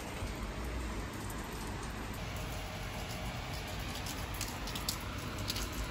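Heavy rain pours down steadily in fog, a dense hissing patter on surfaces that stays constant and close with no voices.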